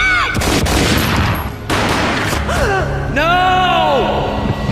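Gunfire in the video game Max Payne, a loud boom at the start with sharp bursts, followed by a woman's gasping cries and voiced shouts over a dense rumbling score.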